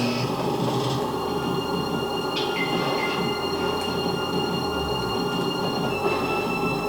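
Train rolling on rails in a video game, a steady continuous rumble with faint high squeals from the wheels, heard alone without talk.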